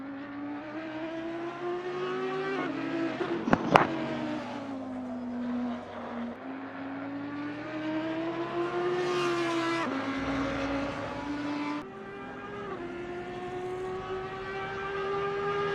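A race car engine howls around Hungaroring in the Assetto Corsa Competizione video game, the loud, close note climbing and dropping with gear changes and a brief sharp transient early on.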